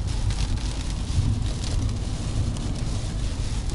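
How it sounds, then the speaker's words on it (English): Warm tropical rain falls steadily outdoors in Ponchatoula, Louisiana, a dense, even hiss with a low rumbling wash and some wind buffeting underneath, constant throughout with no voices. "I love the tropical rain down here."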